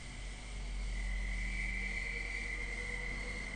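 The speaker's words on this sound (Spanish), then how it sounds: "grillos" Crickets trill steadily in the distance at an abandoned hacienda, a continuous high chirring over a quiet nighttime background with faint low hum.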